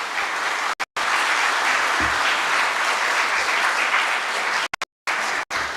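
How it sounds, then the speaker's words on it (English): A large audience at an MBA and BBA inauguration ceremony breaks into dense, loud, sustained applause that fills the room, cut off abruptly by brief gaps. "Can you clap?"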